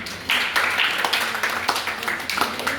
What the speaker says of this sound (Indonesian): Tepuk tangan dulu untuk dia.